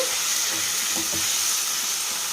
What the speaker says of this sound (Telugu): ఈ టమాటా ముక్కలు వేసుకుందాం పచ్చడికి వంకాయ ముక్కలు ఇవన్నీ వేసుకొని చక్కగా కలుపుకుంటే బాగా మగ్గుతాయండి